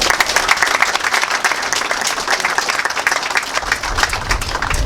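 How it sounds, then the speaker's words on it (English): Loud, dense audience applause at a homeless shelter opening and ribbon cutting, a steady wash of many hands clapping with no pauses for the whole stretch. "Let's give them another round of applause."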